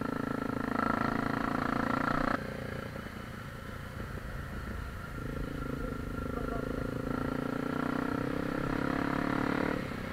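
A Honda CRF250L trail motorcycle rides a white-gravel forest road in Saitama, its engine droning steadily and close throughout with crunching gravel, as the rider talks over it.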